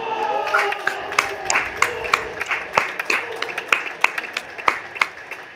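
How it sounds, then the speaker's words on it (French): A single person claps at a padel tournament final, a string of sharp, fairly close hand claps in an irregular rhythm over a low background murmur. "j'applaudis tout seul"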